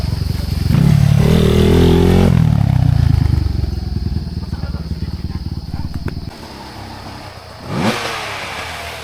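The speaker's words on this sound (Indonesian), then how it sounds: "Ada yang naik motor." A trail motorcycle on a mountain hiking track near a roadside stall revs loudly close by, then fades as it moves off along the path, its engine dropping to a distant drone.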